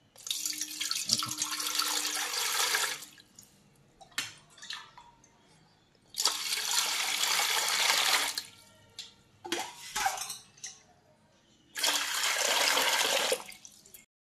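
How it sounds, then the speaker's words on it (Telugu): Water is poured from a small vessel into a cooking pot in three long loud gushes separated by short pauses, with clinks and splashes in between, for making vadiyalu batter at home. "ఈ విధంగా మనం ఒక లోటా పిండికి 8 లోటాలు నీళ్లు పోసానండి నేను"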